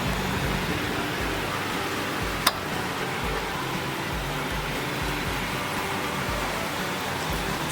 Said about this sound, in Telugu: వర్షం పడుతుంది మంచి.